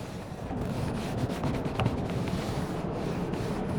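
Paintbrush brushing paint onto an aluminium window, a continuous close scratchy rubbing of bristles with slight strokes in rhythm, steady throughout and without talking.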